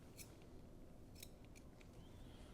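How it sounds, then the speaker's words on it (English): Scissors snip fabric thread near a seam, a few crisp, quick cuts spaced irregularly over a low background hum, close but quiet with no talking. "Make sure I cut it. Don't cut through your stitching now."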